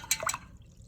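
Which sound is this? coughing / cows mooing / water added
water added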